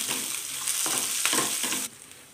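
Curry leaves, asafoetida and spices fry in hot oil in a pan for pongal, a loud continuous sizzle with a few stirring scrapes that cuts off abruptly near the end.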